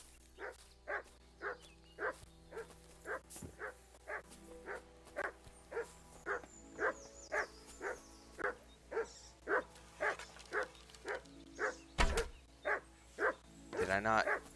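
Repeated dog barks from a dog companion in the medieval game Kingdom Come: Deliverance II, a steady run of roughly twenty sharp yips at an even pace, with a loud thump near the end and a faint voice under the barking.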